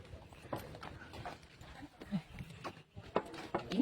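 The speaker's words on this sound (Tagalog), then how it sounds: "Ini kabayo." Horse hooves clip-clopping during a sightseeing outing, a few uneven knocks heard faintly against background chatter and outdoor noise.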